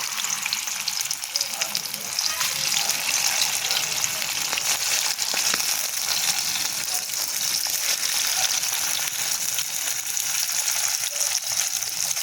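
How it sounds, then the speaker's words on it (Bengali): Fish sizzles steadily in hot oil in a wok, a dense, even crackle and hiss that stays loud and close for the whole stretch, with no talking. "এর মধ্যে আমি এখন মাছগুলোকে দিয়ে ভালো করে ভেজে নেব।"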